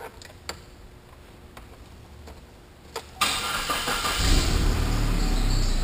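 Saab 9000 engine cranking to life, preceded by a few faint clicks and ticks, then a sudden catch and a steady idle rumble close by.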